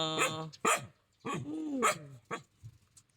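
A dog gives several short, separate barks and a drawn-out whine-like yelp, fairly close, with quiet pauses between them.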